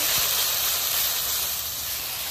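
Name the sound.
spice mix with turmeric, chili and coriander powder frying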